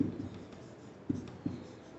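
Writing during a mathematics lecture, a few faint strokes and taps against a quiet room hum, with two brief sharper knocks late on and no talking.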